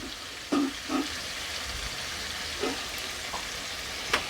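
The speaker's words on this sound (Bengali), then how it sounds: "দিয়ে এটাকে এবার আমি ভালো করে কষিয়ে নেব।" Chopped onion with ginger-garlic paste sautéing in a hot pan, a low steady sizzle broken by a few soft stirring scrapes and clicks, close and continuous.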